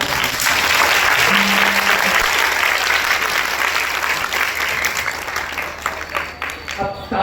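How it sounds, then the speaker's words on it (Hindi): Audience at a live folk dance show applauding the performers, a steady dense wash of clapping that fills the whole stretch and tapers slightly toward the end, with a brief voice or tone partway through. "अब तालियां तो आपने बजा दी"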